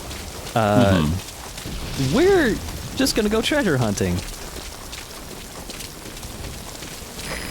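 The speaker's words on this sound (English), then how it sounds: "That rain just won't let up" Steady rain hisses throughout in the video game Metal Gear Solid V while someone talks over it in short phrases.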